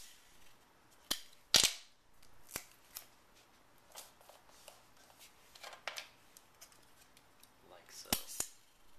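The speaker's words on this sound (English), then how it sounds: "Couldn't find glue, so I'm using tape." Adhesive tape being torn from a roll and pressed onto a sheet of paper, heard as a few sharp close rips and crackles separated by softer handling noises, quiet overall with no talking.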